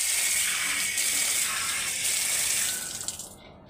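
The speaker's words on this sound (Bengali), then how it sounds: "তো এখন ধুয়ে নেওয়া হচ্ছে গাছগুলো ভালো করে" Plants are washed under running water, a loud close continuous splashing rush that holds steady, then tapers and cuts off near the end.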